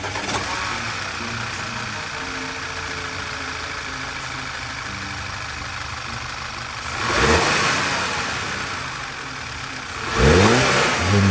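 Audi 2.0 TFSI engine running steadily at idle, then revved twice in short bursts near the end, each a rising surge that settles back to a smooth idle.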